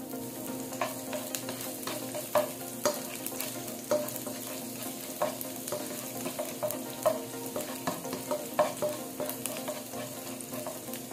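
Garlic frying in cooking oil in a hot pan, a steady close sizzle broken by repeated sharp clicks and scrapes of stirring, with no voices.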